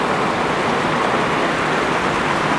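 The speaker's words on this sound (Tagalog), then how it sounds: "Delikado to pag tuloy-tuloy yung ulan." Steady rain falls on a mountaintop, a dense, unbroken hiss that holds at the same loud level from start to finish with no other sounds.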